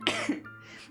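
A single cough bursts out close by, followed by a second throat-clearing cough, then fades into quiet room tone.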